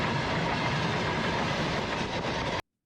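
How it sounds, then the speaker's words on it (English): A fast train roars past close by, a loud continuous rush of wheels and rail clatter that cuts off abruptly at the end. "Whoa, look at that train."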